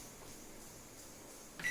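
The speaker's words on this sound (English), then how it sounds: "Now the food is ready. I can hear the beep." A microwave oven on 600-watt mode gives a single short electronic beep right at the end, after a quiet stretch of low hum, signalling that the roasted mushroom, baby corn and vegetables are done.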